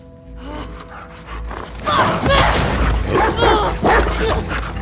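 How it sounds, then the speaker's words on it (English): Guard dog attacking in The Last of Us Part II, a video game: snarling, yipping and whimpering dog sounds rise to a loud, dense struggle, with a voice mixed in throughout. "where she's promptly attacked by a guard dog"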